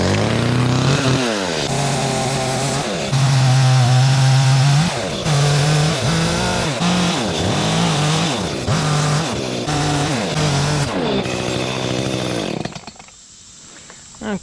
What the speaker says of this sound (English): Okay, so I got the bulk of the chainsaw stuff done.